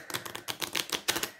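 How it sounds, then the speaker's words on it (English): Oracle card deck being riffle shuffled, a quick burst of crisp flapping clicks in several rapid bursts, close and fairly quiet. "I struggle to riffle shuffle"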